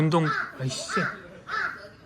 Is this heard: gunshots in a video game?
no